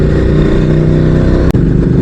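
A motorcycle cruises an empty, winding ghat-section mountain road, its mid-pitched engine humming steadily and close, with a short sharp bump or wind gust partway through.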